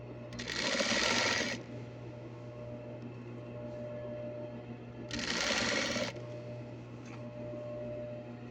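Two loud bursts of sewing machine stitching on elastic gartering for shorts, each about a second long and separated by a steady motor hum, with no talking over them.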